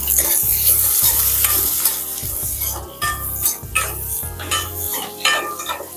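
Chopped onion and capsicum frying in a pan, a loud close sizzle with repeated stirring and scraping of a utensil against the pan, no talk.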